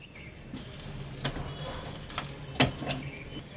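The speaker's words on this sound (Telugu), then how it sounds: "తడకా వేసాం." Tempering spices for a chukka koora roti pachadi crackle softly in hot oil, a faint steady sizzle with a few sharper pops and ticks standing out.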